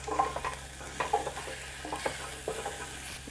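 Mushrooms and beans being stir-fried in a pan for a vegetable thukpa, with a steady sizzle and repeated spatula scrapes and clinks at an even rhythm, no talking.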